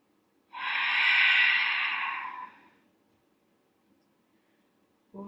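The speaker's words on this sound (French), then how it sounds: "Les dernières respirations." Deep breathing during a Pilates exercise: one long, airy exhale rises, holds for about two seconds and fades, followed by near silence and a short breath at the very end.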